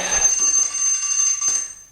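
A workout interval timer sounds a sustained high electronic beep during a home resistance band routine, steady and fairly loud over a faint background hiss, with a brief fainter blip near the end.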